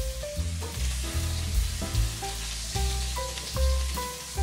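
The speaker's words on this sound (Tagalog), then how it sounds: "Igisa ito hanggang sa maghiwa-hiwalay ang mga sibuyas." Onions for bistek Tagalog sauté in a pan, a continuous bright sizzle close by, with occasional stirring scrapes and clinks as they are moved around, and no voices.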